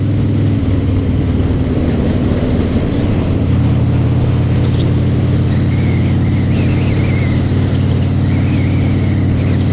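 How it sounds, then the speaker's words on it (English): Several motorboats churn across the water at close range, a loud layered engine drone with overlapping hums that shift as one boat passes and fades. "That's a lot of boats."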